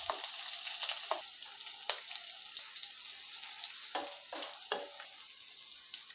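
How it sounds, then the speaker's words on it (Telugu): Onion pieces frying in a pan along with mustard seeds and green chilies give a steady, close sizzle, broken by a few brief louder bursts where the pieces are stirred; no one speaks. "ఇట్లా ఉల్లిపాయ ముక్కలు మంచి కలరు వచ్చే వరకు ఒక 2 నిమిషాల పాటు వేగనివ్వాలి."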